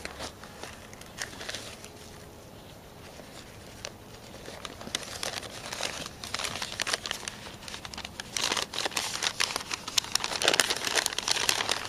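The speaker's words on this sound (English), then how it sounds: "wrapped up in Harbor Freight wrapping paper here" A gift box wrapped in Harbor Freight wrapping paper is torn open, with steady crinkling and crumpling of paper that grows louder and busier toward the end, close up.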